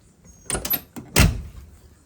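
Doors on a restored trooper car are shut, giving two close, solid thuds about half a second apart with a little rattle, and no talking.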